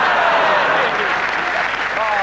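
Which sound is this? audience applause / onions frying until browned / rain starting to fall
audience applause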